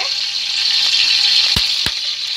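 Marinated chicken pieces for shish tawook hit a hot pan, giving a loud, steady sizzle with a couple of soft thuds as more pieces drop in, with no talking.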